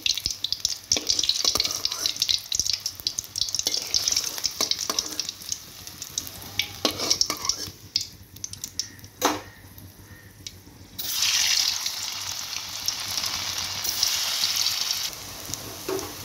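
Paneer balls frying in hot oil in small batches, a steady sizzle broken by stirring and scooping clinks, with a louder bubbling burst near the end as fresh pieces hit the pan.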